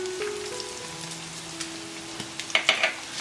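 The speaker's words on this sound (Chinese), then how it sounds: "翻炒均匀就可以出锅啦" Shredded chicken with white sesame being stir-fried in a wok, a steady close sizzle with scraping clinks of the spatula growing sharper toward the end, no talk.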